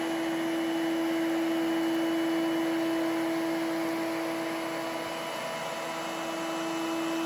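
A Coral One robot vacuum running in turbo suction mode gives a loud, steady motor drone with a strong constant whine and airy rushing noise that holds unchanged throughout, with no talking.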